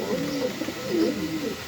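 Pigeons at a pigeon farm cooing softly and repeatedly, low rolling calls close by over a steady background hiss.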